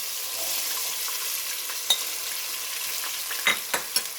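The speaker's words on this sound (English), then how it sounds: "I'm gonna stir them well all together with the ghee." Garlic and dry coriander seeds frying in ghee while being stirred, a constant close sizzle with scraping strokes and a few louder clanks of the spoon against the pot.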